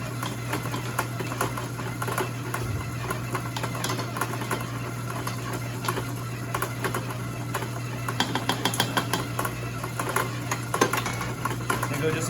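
A stand mixer works gluten-free hamburger bun dough in a bowl, a steady mechanical whir with a low hum and rapid clicking texture throughout, with a voice talking faintly over it.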